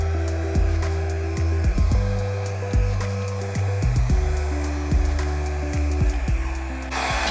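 A hair dryer blows across puddles of pink and dark blue acrylic paint in an abstract pour, a continuous close whoosh whose pitch sways as it moves, with a few soft knocks and shifts along the way.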